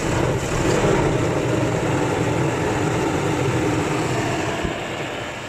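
A broken Mercedes SL500 runs close by with a steady, rumbling engine tone that holds fairly even and slightly lifts before easing off toward the end, with no talking.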